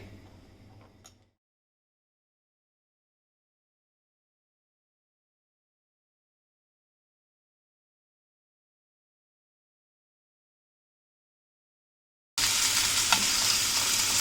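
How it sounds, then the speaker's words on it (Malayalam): Chicken frying lightly in olive oil for a chicken pizza gives a brief sizzle, then long silence, then a loud, steady, close frying hiss returns for the last couple of seconds. "ഒലിവ് ഓയിൽ ഒഴിക്കാം ചിക്കൻ ഫ്രൈ ചെയ്യാൻ വേണ്ടി. ലൈറ്റായിട്ടൊന്ന് ഫ്രൈ ചെയ്താൽ മതി."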